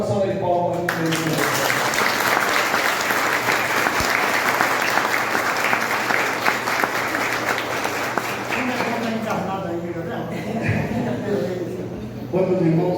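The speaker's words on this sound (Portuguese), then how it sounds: "salva de palmas" Sustained audience applause fills a church gathering after a talk on education and the gospel, loud and dense for about ten seconds, then thinning out. Voices come through near the end.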